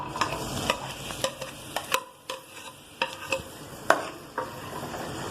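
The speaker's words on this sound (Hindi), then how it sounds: "बघार लगाने के लिए हमने 2 चम्मच ऑयल ऐड कर दिया अपनी कढ़ाई में। इसके बाद हम प्याज डालेंगे" Onions frying in oil in a kadhai as tempering for Hyderabadi chicken nihari: a soft sizzle under frequent, irregular spatula scrapes and light metallic ticks, close by.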